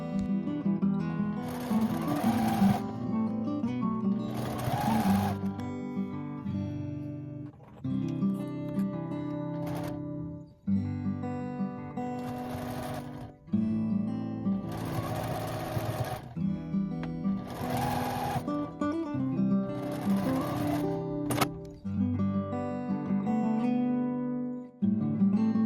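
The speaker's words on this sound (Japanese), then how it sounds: "ミシンで縫います。" A sewing machine stitches together scrap fabric pieces for a tote bag. It runs in about eight loud, close, whirring bursts, with brief pauses and fabric handling between runs.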